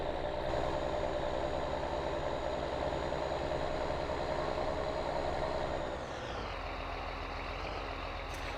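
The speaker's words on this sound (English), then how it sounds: "It's been a while since I've used this tractor, I forgot how good it sounded." A tractor engine in the Farming Simulator 19 video game runs with a loud, steady diesel rumble, then drops to a lower, quieter idle-like tone about two thirds of the way through, with no voices.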